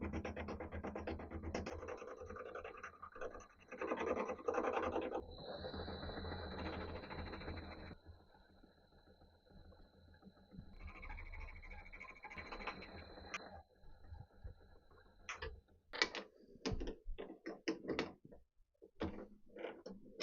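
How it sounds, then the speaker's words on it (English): A small lathe turns away part of the tang on a new arbor mounted with a tailstock chuck, producing a whirring machine hum in several runs with a faint whine, stopping and then giving way to scattered clicks and handling noises. "I've mounted the tailstock chuck together with its new arbor in the smaller lathe, and I'm just going to turn away part of the tang."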